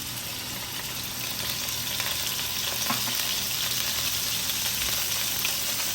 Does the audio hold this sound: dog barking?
no